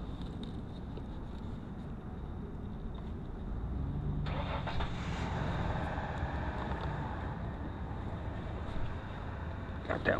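An E-Flite F-16 RC jet's electric ducted fan motor spins up partway through, a sudden rising whine over a low outdoor rumble that holds steady and then cuts back near the end.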